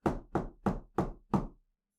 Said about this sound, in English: So she walks up and she knocks on the door.